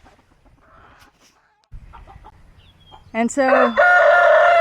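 Chickens at a backyard chicken coop: a few soft clucks, then a loud rooster crow rising close by and holding to the end, with someone speaking briefly early on.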